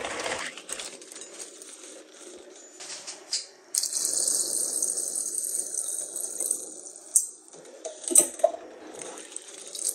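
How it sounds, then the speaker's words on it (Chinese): Tap water runs and splashes over thin-skinned chili peppers being washed at a sink, a steady gushing wash with occasional louder splashes and rattles as the peppers are handled. "现在把辣椒 清洗干净外皮"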